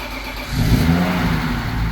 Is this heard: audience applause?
no